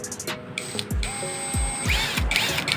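A drill with a riveter gun adapter, set to slow mode, turns slowly in short, uneven bursts with clicking mechanical noises, close by and fairly quiet.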